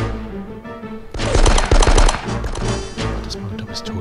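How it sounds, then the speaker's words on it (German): Rapid burst of pistol gunfire in the Die Hard video game, loud and close, a cluster of sharp shots over game background noise with a voice talking around it. "Das macht eine Pistole."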